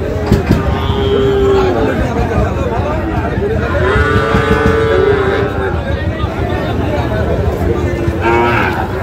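Sahiwal bull calves at a busy Friday cattle market in Ambari, several long loud moos rising over a constant crowd murmur and background voices.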